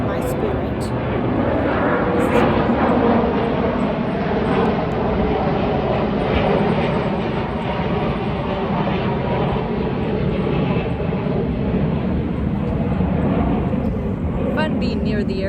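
An airplane flies near an airport, producing a broad, loud, sustained engine roar outdoors that fills the whole stretch, with people talking underneath.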